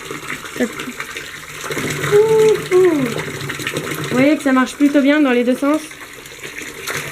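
A small homemade water wheel turns in flowing water at an old stone wash basin, a steady splashing trickle under someone speaking French, with whistling or squeaky tones rising over it.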